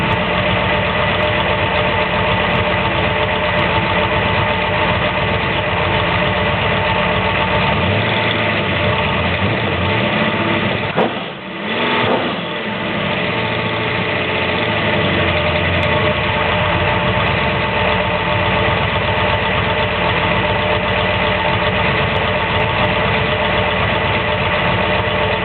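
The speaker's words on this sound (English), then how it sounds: "You can tell the idle's already starting to smooth out a little bit." A Ford 393 stroker V8 (351 Windsor) with FAST EFI idles continuously with a loud, rumbling, slightly lumpy drone that dips briefly midway before settling back.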